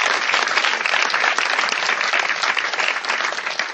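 A church congregation applauds during a service, with steady dense clapping from many hands close by and no voices over it.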